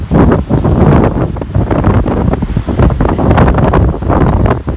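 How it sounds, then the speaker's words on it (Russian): Squally wind buffets the microphone on the Kobuleti coast, a loud, continuous roaring rush with gusting surges and surf noise underneath, no voices heard. "Когда вот солнце, шквалистый ветер."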